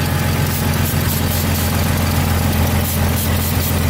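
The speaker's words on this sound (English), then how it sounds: "the engine seems to be running okay right now" Jeep engine running steadily after a shot of starter fluid, a loud close rumbling idle with constant vibration and no voices.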